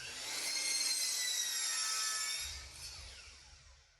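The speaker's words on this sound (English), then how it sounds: "Next, I'll cut a 45-degree angle out of my scrap piece of plywood here." A saw cuts a 45-degree angle through a scrap piece of plywood in a short burst of close, raspy cutting noise that swells, then fades out, with no talking.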